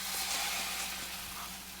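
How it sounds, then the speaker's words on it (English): A steady, soft sizzle of an arepa frying on a grill set to 250, a continuous hiss with no talking. "Hear that sizzle?"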